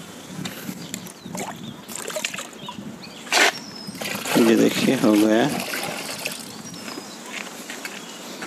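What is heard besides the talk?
liquid culture being poured and mixed into water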